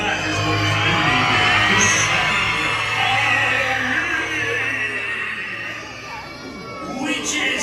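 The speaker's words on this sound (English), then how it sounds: "So rise up your voices. Let me hear a loud scream." A crowd on a Disney Magic Halloween cruise screams and whoops loudly, a sustained mass of yelling voices that holds for several seconds before easing slightly and swelling again.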